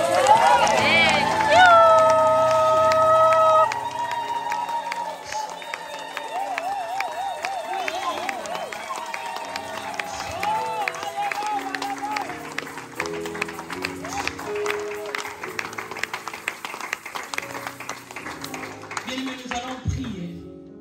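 A church congregation at a women's conference in France claps and acclaims in a dense, continuous wave of applause and crowd noise with voices singing and calling over it, steady and loud throughout.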